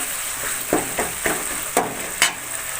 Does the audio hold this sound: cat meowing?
no